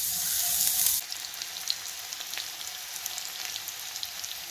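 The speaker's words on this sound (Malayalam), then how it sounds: "ഇനി നമുക്ക് അതിലേക്ക് കുറച്ച് വെളിച്ചെണ്ണ ഒഴിച്ചു കൊടുക്കാം." Shallots frying in coconut oil for a fish curry, a loud hissing burst for the first second that settles into a quieter steady sizzle with faint crackles and pops.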